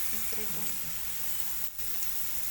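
Fish frying in a pan gives a steady, close sizzle that runs without a break, with a short crackling burst partway through.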